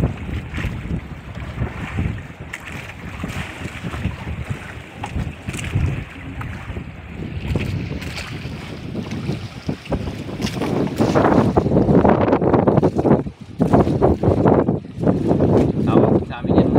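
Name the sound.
strong wind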